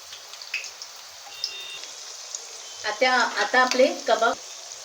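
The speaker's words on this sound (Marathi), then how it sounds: "आता हे लालसर होईपर्यंत परतायचे." Chicken kebabs sizzle steadily in a pan as they fry until reddish, a soft continuous crackle, joined near the end by a few short, voice-like tonal bursts.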